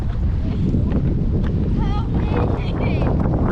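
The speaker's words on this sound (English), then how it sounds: "Look, that wind's no joke." Strong wind buffets the microphone on a lake during a canoe outing, a steady loud roar with rushing water noise throughout and faint voices or calls breaking through.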